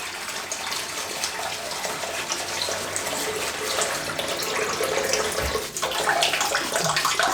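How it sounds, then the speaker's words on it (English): Water gushes steadily from a tap into a basin, a loud, close, continuous rush that swells slightly toward the end. "I'm gonna need more water in this."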